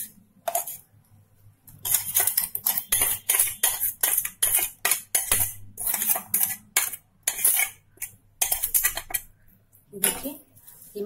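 Ground hair mask paste scooped from a container into an iron bowl, a rapid series of close metallic clinks and scrapes of a spoon against metal, coming in irregular bursts with brief pauses.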